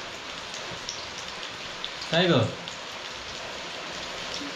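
Steady rain falls outdoors in the Konkan countryside, a soft even patter that runs throughout, with a brief spoken phrase from a woman midway.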